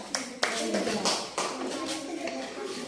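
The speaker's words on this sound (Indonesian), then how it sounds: "tepuk tangan untuk kelompok 2" A classroom of pupils clapping for a group that just finished reading, scattered and uneven hand claps with a few sharper bursts, fairly quiet and close, with a voice talking over them.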